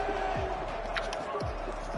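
Simulated stadium crowd in a Madden football video game cheers the defense after it forces a fourth down, a steady, dense roar of massed voices holding at an even level throughout with a few thumping knocks mixed in.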